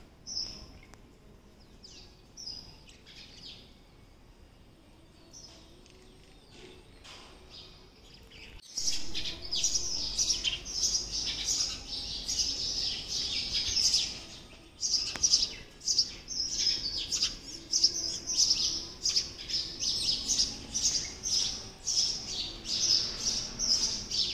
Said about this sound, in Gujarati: ચકલીઓ એટલો કલબલાટ કરે છે ને